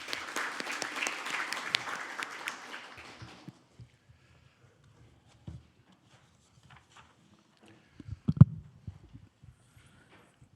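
Audience applause at a Korean National Assembly science and technology policy forum, welcoming the federation president to the podium: a dense burst for about three seconds that fades into quiet room noise and a few scattered thumps.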